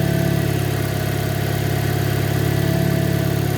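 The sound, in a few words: 2010 Chevrolet Aveo car engine running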